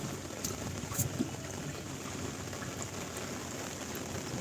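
Heavy rain patters down on a surface, dense and even throughout, with a few brief knocks and no speech.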